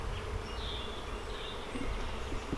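Honey bees hum around an open hive while frames are moved into a nuc box, a steady, close, dense drone with individual bees whining past, no voices over it.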